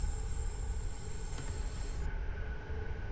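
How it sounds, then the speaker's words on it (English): Sustained metallic flange squeal from a long E233-3000 EMU train on the Keihin-Tohoku and Utsunomiya lines, steady high-pitched whining tones over a low rumble of wheels, with the squeal cutting off partway through while the rolling noise continues. "I like the flange squeal sounds as well"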